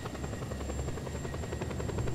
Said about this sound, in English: And a military helicopter. A really nice military helicopter.